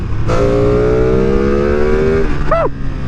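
A 2022 Ducati Streetfighter V2 motorcycle engine revs up hard in sport mode and holds a high whine, then drops off sharply as the rider shifts, loud and close.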